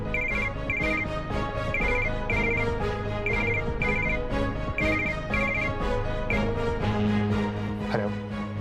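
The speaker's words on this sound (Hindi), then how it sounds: "रोहित ने अपनी कंपनी के IT हेड सैम को फोन लगाया।" A phone call goes out to a company's IT head, heard as a repeating electronic ringtone in steady paired bursts over a continuous musical background, loud and close throughout with no talking.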